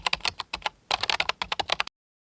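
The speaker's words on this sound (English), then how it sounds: "Type subject on here and then type messages." Fingers type on a computer keyboard in a quick close burst of clicky keystrokes, a brief pause, then another rapid flurry that stops abruptly into silence.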